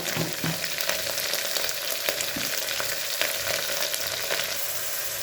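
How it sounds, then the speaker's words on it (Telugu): Coconut paste frying with golden brown onions in a pan for mutton biryani, a steady dense sizzle with occasional stirring scrapes, close and continuous, with no one speaking. "ఆనియన్స్ గోల్డ్ బ్రౌన్ కలర్లోకి మారాయండి. వెంటనే కొబ్బరి పేస్ట్ వేసుకుందాము."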